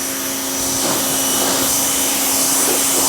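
A pressure washer runs continuously with a light 1/4-inch, 50 ft Yamatic hose attached, producing a loud, steady, broadband motor-and-spray roar with a constant hum and no speech.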